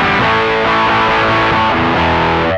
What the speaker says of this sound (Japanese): このドライブも振り切って、OD 側に振り切った状態の歪み